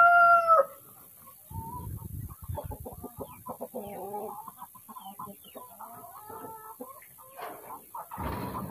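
Chickens cluck and a rooster crows on a small farm, with an old laying hen among the flock; scattered close clucks and calls come through over quiet background, alone with no talk.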